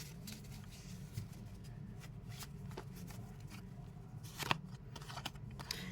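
Tarot-style fortune-telling cards are shuffled by hand in a steady run of close, crisp riffling and slapping bursts, with one sharper snap near the end and no voices.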